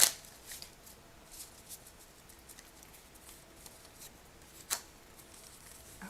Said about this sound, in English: Now we are out of cards, so I will shuffle the deck, our hero deck